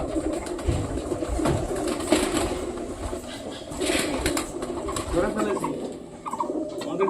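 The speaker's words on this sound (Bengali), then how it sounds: "এইবার আমার কিং পায়রাটাকে ধরতে হবে" Pigeons, kept alongside cross-bred pigeon and Australian dove chicks, coo repeatedly in a close, busy loft, with soft overlapping calls and occasional wing flutters.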